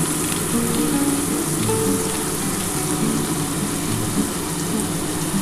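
Spice masala with chili powder and Kashmiri chili powder fries in oil for a Bengali pomfret curry, a steady, dense sizzle running throughout with no voices.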